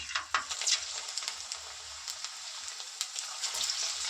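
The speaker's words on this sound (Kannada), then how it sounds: "ಈಗ ಎಣ್ಣೆ ಕಾದಿದೆ. ನಾನು ಒಂದೊಂದಾಗಿ ಈ ಥರ ಬಿಡ್ತಾಯಿದ್ದೀನಿ." Okra fritters in batter are lowered one at a time into hot oil and fry with a steady, close crackling sizzle and scattered small pops throughout, with no voices.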